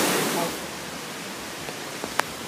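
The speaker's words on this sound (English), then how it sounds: "This place is the waterfalls in Maryland" Waterfall near the Virginia–Maryland border, heard as a broad, steady rushing hiss of falling water that dominates the short clip, with a few faint clicks and taps near the end.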